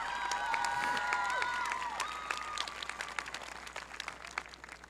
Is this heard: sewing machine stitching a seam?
no